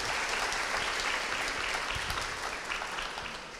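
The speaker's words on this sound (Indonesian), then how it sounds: "Minta tepuk tangannya dulu" An audience applauds at a youth political-participation event on money politics, a dense, steady wash of many hands clapping close by that tapers off slightly toward the end.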